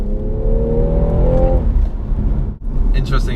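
A BMW M2 or M240i engine blips upward in pitch as the gearbox changes down, the rising rev note lasting about a second and a half before giving way to steady road and cabin rumble, close and loud.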